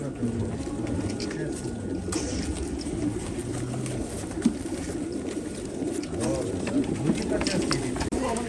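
Pigeons coo at a pigeon auction, their low repeated calls filling the background while people talk throughout, close and steady.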